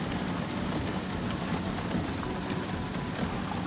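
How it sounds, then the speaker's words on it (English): Steady, dense rain falls on a forest road in the Bosnian mountains, a continuous loud hiss of drops with no pauses or voices. "the rain's caught up with us"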